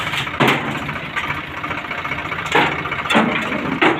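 A farm tractor's engine runs close by with a steady low chug, rising in several short, louder revving surges; no voices are heard.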